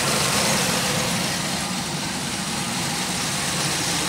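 A Pontiac Aztek engine runs at idle under the hood, a dense steady rumble with broad noise, heard up close and fairly faint with no talk.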